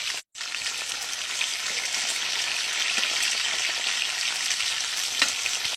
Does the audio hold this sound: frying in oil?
yes